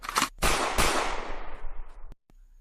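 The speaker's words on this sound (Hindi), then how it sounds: "एनफील्ड रिवॉल्वर की 2 गोलियां" Two sharp gunshots from an Enfield revolver, an animated-film sound effect, each blast trailing into a long decaying rumble, followed by a brief click.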